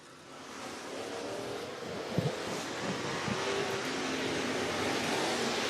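A race car engine roars at a distance through turn four at Whynot Motorsports Park, its rumble building steadily and growing louder, with a windy, washed-out texture over it.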